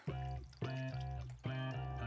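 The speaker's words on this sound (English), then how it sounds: "Then I'm gonna fill this up with water and give it a quick little stir." Water poured into a glass of lemonade mocktail in three short bursts, each starting with a bright splash and settling into a steady rising fill, close and fairly quiet.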